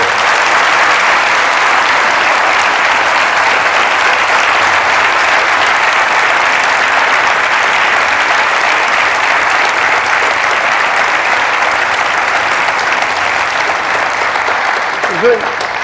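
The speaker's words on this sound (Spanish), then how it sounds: "Le damos un aplauso a Alejandro." Sustained applause from a large theatre audience at a live interview event, loud and steady throughout with dense clapping.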